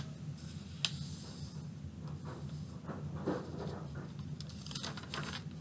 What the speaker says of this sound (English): So I need to fold this like this.